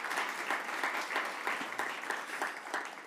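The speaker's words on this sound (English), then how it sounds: "Let's give her a round of applause." Audience applause at a business energy summit after a National Guard sergeant sings the national anthem; steady dense clapping fills the room at moderate level throughout, with no talking over it.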